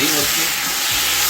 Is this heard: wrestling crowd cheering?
no